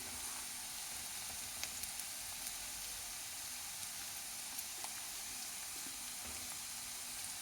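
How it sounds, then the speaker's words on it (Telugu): Bottle gourd fries in a pan with a soft, steady sizzle and occasional faint pops. The sizzle stays quiet and continuous, with no talking. "సొరకాయ ఉడుకుతుంది అన్నమాట. కొన్ని వేగిపోయింది."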